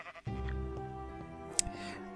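A single sheep bleats in Minecraft, one sustained wavering call up close, with a small click near the end.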